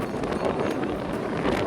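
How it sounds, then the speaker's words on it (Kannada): Strong wind blowing across the open hilltop at Nandi Hills, a steady loud roar buffeting the microphone throughout with no pauses. "ಫುಲ್ ಗಾಳಿ ಗಿಚ್ಚಲಾಗತೈತಿ"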